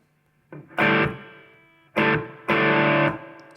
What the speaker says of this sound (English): Change my reverb type.